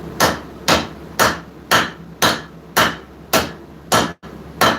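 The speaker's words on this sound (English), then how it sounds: "I'm swinging towards the edge of the anvil as I'm doing this" A hammer strikes hot steel near the edge of an anvil while a knife is forged, giving nine evenly spaced, loud ringing blows close by, with no talk.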